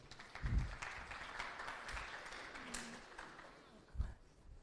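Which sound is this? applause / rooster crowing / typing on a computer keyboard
applause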